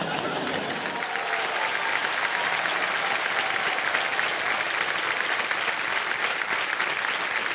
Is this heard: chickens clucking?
no